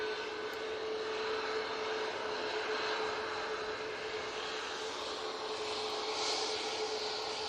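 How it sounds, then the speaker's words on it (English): A Ryanair Boeing 737 MAX 8 moving past at Manchester Airport, a steady, moderately distant jet engine roar with a constant tonal hum, continuous and even throughout, no talk. "MAX 8 coming on in front of us"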